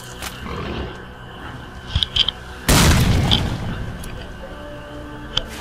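A single loud grenade explosion from S.T.A.L.K.E.R. Call of Pripyat, a sharp blast that rolls off into a long rumbling decay over quiet game ambience, with a few faint clicks before it and soft talk in the background.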